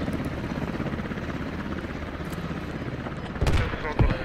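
A helicopter in the Squad military shooter game drones with a steady rotor rumble throughout, with a few sharp gunfire bursts near the end and talk mixed in.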